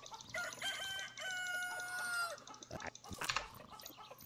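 A rooster crows in the video game Polda 6, a loud, drawn-out cock-a-doodle-doo with sliding tones, then a few short clucks and clattering noises, no voices.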